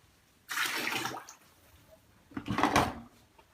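Water gushes from a tap into a pot for boiling a home remedy, two separate bursts of close, loud splashing flow with a short quiet pause between them, no voices.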